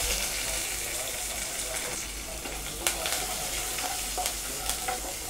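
Small shallots frying with mustard seeds, asafoetida and chana dal for a cabbage kootu, a dense, loud, continuous sizzle with sharp crackles and spoon stirring, no talking.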